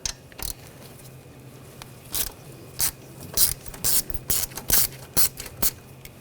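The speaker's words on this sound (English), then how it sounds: "we're gonna loosen up the bolt right here. Use a 10mm socket." A ratchet with a 10mm socket loosening a bolt on a 2014-2020 Nissan Rogue, giving quick, close clicking bursts in an uneven rhythm that turn faster toward the end.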